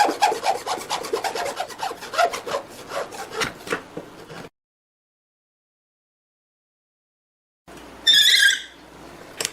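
A hand saw cuts a scrap of ebony wood with quick rhythmic rasping strokes close by, stopping for a few seconds of silence before a brief squeaky resumption.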